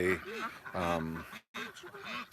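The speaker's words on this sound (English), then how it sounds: "the ducks are trying to stay away" Farm ducks quack and honk close by in quick, nasal bursts, with a brief silent gap partway through.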